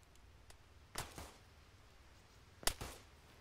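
Two separate rifle shots in an ARMA 3 battle crack out about a second and a half apart, each a sharp report with a short echo, over a quiet hum.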